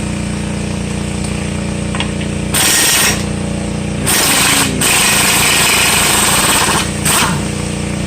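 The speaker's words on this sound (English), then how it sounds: "now I'm going to go ahead and take the axle nut out" A power tool removes the axle nut on a Nissan Versa during a right CV axle replacement, a loud, close, harsh mechanical rattle that comes in several hard bursts over a constant running background.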